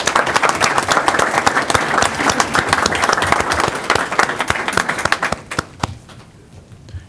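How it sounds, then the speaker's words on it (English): Audience applause at a school board work session, a dense steady wash of many hands clapping for about five seconds before thinning out and fading to scattered claps. "Let's give them a round of applause."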